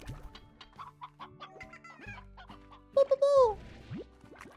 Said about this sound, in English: Here, chicken.